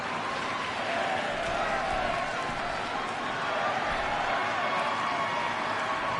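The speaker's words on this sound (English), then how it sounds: "Crowd showing their approval." Crowd at a women's wrestling tournament applauding and cheering, a steady wash of clapping and voices with no break, fairly loud throughout.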